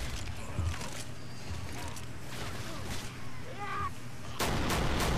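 Gunfire in the zombie shooter Left 4 Dead 2, booming shots over constant dense game noise, with a louder rush of firing near the end and faint voices underneath.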